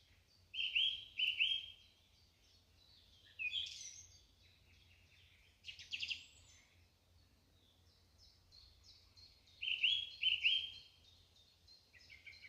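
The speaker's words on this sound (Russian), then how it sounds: "И солнце танцует под птичье пение." Birdsong in a May forest near Kursk: repeated bright trilling phrases and chirps in bursts, moderately near, over a faint low hum, with no voices.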